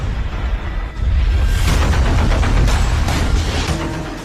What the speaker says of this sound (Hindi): ईरान की तरफ से दागी गई नई मिसाइलों की खेप को इजराइल ने एयर डिफेंस सिस्टम के जरिए इंटरसेप्ट किया, जिससे आसमान में कई धमाके सुनाई दिए